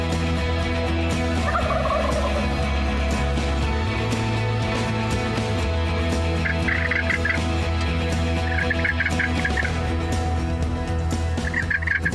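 A wild turkey tom gobbles repeatedly in a field during a Nebraska hunt. The rattling calls come in several short bursts at moderate distance over a steady low engine-like hum. Frog-like croaks sound faintly in the background.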